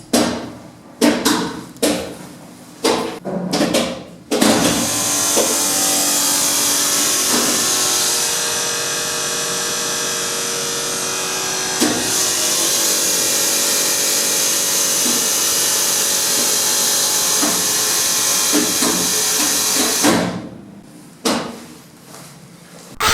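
Lift motor room machinery in Cologne, Germany, hums steadily for about fifteen seconds, with clunks and knocks from the equipment before it starts and after it stops.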